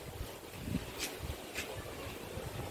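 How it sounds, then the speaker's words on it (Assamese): Strong, dusty wind blows outdoors, a low steady rumble buffeting the microphone with a couple of brief gusty hisses, fairly faint overall. "ধুচৰাই পুৰা বতাহ দিছে"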